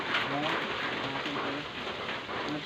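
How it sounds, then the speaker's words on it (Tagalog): Rain falls steadily across an open farm field during hot April weather, making a continuous broadband patter under a person speaking. "Umuulan."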